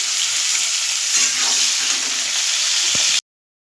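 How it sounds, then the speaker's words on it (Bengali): Eggplant pieces fry in hot oil alongside potatoes for a Bengali hilsa fish curry, a loud, steady close sizzle with faint stirring that stops abruptly near the end, without any talking. "বেগুনটা দিয়ে একটু ভেজে নেব।"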